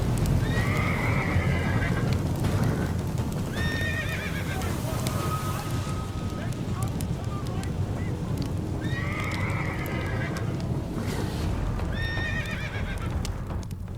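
Cavalry horses gallop in pursuit in a battle sound effect, with continuous pounding hooves, repeated loud neighs and whinnies over the top, and a dense rumbling background throughout.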